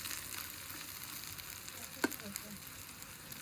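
Garlic fries and browns in a pan, giving a steady close sizzle with a couple of sharp pops or clinks near the end.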